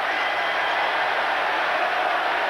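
Arena crowd at the Omni in Atlanta, a near-sellout NBA game between the Knicks and Hawks, reacts after John Starks misses a long three-pointer; a steady, loud wash of crowd noise with scattered jeering holds evenly throughout.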